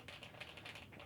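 Typing on an Epomaker EK98 mechanical keyboard, a steady run of close, quiet key clicks at an even pace with no voices.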